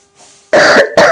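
Two short, harsh coughs, close and loud, heard alone with a brief gap between them.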